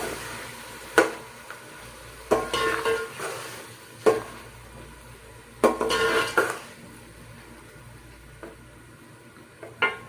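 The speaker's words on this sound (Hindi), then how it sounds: "अब हम इसमें कलेजी डाल देंगे। और कलेजी को इस मसाले के साथ भून लेंगे।" Mutton liver being stir-fried with masala in a pan, heard as a quiet background sizzle broken by sharp intermittent clanks and scrapes of a spoon against the pan, spaced irregularly every second or two.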